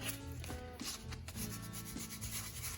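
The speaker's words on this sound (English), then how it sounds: "we're just gonna take a little bit of a sander, sandpaper, hit those edges just a little bit" Sandpaper rubs back and forth over the edges of an Old Hickory hunting knife, a steady close scratching with repeated strokes and no talking.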